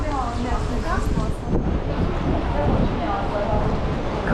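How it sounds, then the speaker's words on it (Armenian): Strong wind buffets the microphone outdoors on a rainy day, producing a loud, continuous rumbling roar that fills the whole stretch. "Քամի ճիշտ է, բայց"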